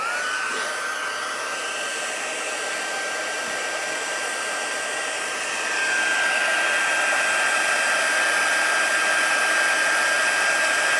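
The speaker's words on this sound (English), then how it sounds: "Now we need to heat it up. So I have my embossing gun" A heat embossing gun blows hot air with a steady, loud whirring hiss that runs the whole time and grows slightly louder partway through.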